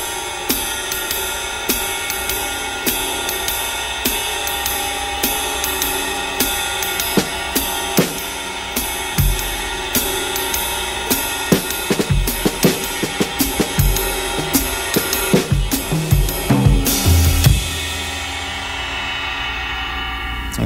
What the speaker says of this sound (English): So, playing a swung eighth note or triplet subdivision, we have something that sounds like this.